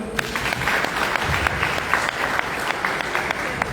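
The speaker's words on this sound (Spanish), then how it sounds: "Dale un aplauso al Señor." A church congregation breaking into dense, sustained applause, many hands clapping at once in a loud, continuous wash filling the room, with faint voices mixed in.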